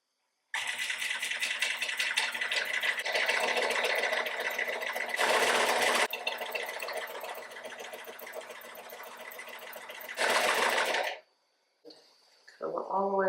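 Sewing machine stitching a half-inch seam around a reversible apron, running steadily and loudly for about ten seconds with brief bursts of faster stitching, then stopping; a voice speaks at the end.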